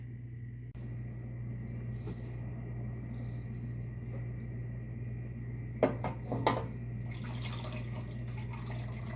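Walnut-dyed fiber is rinsed under running water, with a steady tap flow and a few clinks and splashes from a container or dish partway through.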